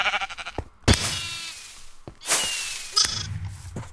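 Short, sharp sheep bleats from the Minecraft game pop out in a few separate bursts amid swishing whooshes, loud and close with quiet gaps between them.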